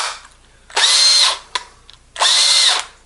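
A Milwaukee M18 impact tool running on an EnnoTool 18V replacement battery fires in two loud bursts of roughly half a second each, close up, with a short click between them.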